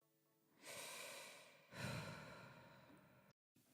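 A slow human breath recorded in a studio for a song transition: a long soft inhale followed by a fuller exhale, close and breathy, with no talking, ending in a brief dead silence.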